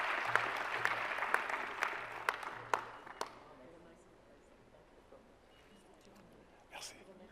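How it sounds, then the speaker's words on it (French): An audience claps for award recipients at a conference plenary session. Dense, crisp clapping fills the first few seconds, then thins and fades to a quiet room, with a brief murmur near the end. "On peut quand même les applaudir."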